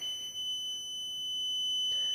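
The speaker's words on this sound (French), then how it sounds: "Le buzzer émet une alarme en continu." Dosimeter buzzer holds a steady, continuous high-pitched electronic tone throughout, moderately loud and unbroken, with faint background noise beneath it.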